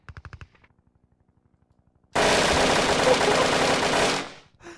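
Sustained AK-47 automatic fire in the Hand Simulator video game, a loud dense burst lasting about two seconds after a brief pause, preceded by a few short clicks and light thumps.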